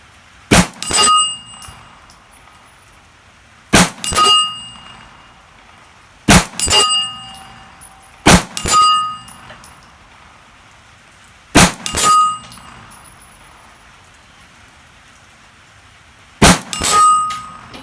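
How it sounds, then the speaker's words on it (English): Sharp 9mm gunshots from a PSA AKV carbine with a red dot sight are each followed by a ringing clang of bullets striking 3-inch steel spinner targets, in separated pairs spread over the stretch, loud and without talk. "See if we can hit some of those 3-inch steel spinners there."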